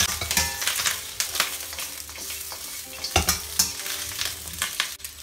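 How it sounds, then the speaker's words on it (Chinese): Chicken feet stir-fried with ginger slices in a hot wok, a close sizzle broken by repeated scraping and tossing strokes of the spatula at an uneven rhythm. "下入鸡爪，给它翻炒一下，把上面水汽给它煸干"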